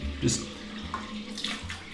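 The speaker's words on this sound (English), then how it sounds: "So I'm just going to put water on my face again." A few brief splashes sound as water is cupped and splashed onto a face at a bathroom sink, quiet and close, with short gaps between them.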